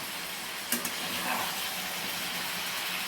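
Chicken with onion and tomato frying in a kadai, a steady close sizzle with brief scraping clatters as it is stirred.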